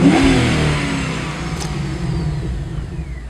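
Holden VE SSV Commodore V8 engine revving, a loud low roar that peaks at the start and settles into a steady rumble as the revs fall back, with no talking.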